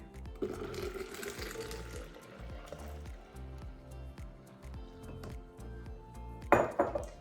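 Very cold water poured into a pitcher while making a chilled milk drink, a steady splashing hiss that fades after about two seconds, with rhythmic background music throughout and a brief clatter near the end.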